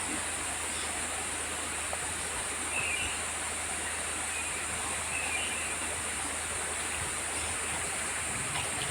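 A steady, gentle rush of a freshwater river flowing continues evenly throughout, soft and unbroken with no voices.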